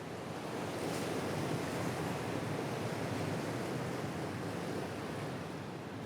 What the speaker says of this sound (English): the wind and the sea